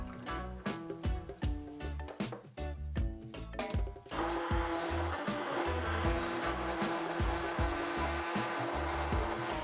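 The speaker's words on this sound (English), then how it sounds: "I am using a stick blender and a bowl to blend the punch" A handheld stick blender whirs in a bowl of punch made with whole milk, table cream and milk, first in short choppy bursts, then running as a steady loud motor whine for the rest of the clip.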